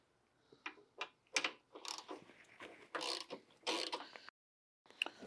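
A ratchet with an extension works loose a 1/2 inch bolt on a 2014-or-later Harley-Davidson fuel tank, giving a close run of quick clicking bursts and metallic scrapes with a brief pause.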